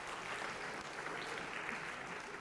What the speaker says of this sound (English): So a round of applause for these 2.